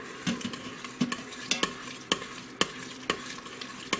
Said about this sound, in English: Again, let's give it a good stir.